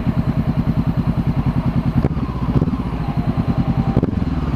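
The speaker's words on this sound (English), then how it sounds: "I love to hear this thing downshift." Motorcycle engine downshifting on a road ride in brine and salt conditions, a loud close pulsing exhaust with rapid rhythmic firing and brief gaps where gears change, deceleration burble throughout.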